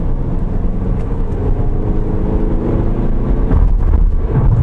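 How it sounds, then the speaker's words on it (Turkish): A car's 2.0 TDI 190 PS diesel engine drones steadily from inside the cabin, a low rumble with road and wind noise, growing slightly heavier toward the end. "2000 motor bir dizel araç."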